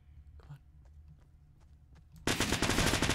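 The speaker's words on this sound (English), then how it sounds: "pick up the machine gun" Machine gun fire in the video game Fortnite erupts as a loud, dense continuous burst in the final second, after quieter game ambience with faint footsteps and small clicks.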